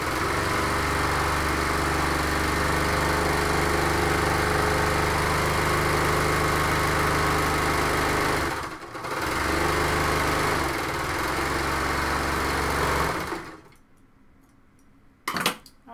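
A sewing machine hems the back of a cowl neck tank top, running in a long steady hum with a brief pause midway, then stopping near the end, followed by a couple of small clicks.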